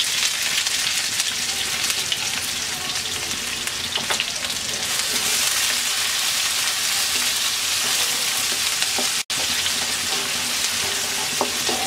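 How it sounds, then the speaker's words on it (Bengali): Garlic and chopped onion frying in hot oil in a pan for a Bengali okra dish, a loud steady close sizzle throughout with a few faint clinks of a utensil. "পেঁয়াজটাকে হালকা ভেজে নেব"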